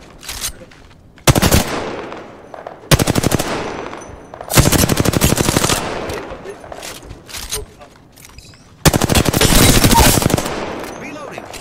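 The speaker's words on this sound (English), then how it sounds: "I am taking fire." Bursts of automatic gunfire in an Apex Legends match, several loud rapid volleys separated by short pauses, with players talking over the shooting.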